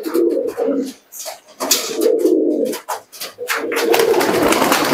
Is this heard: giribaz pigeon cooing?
yes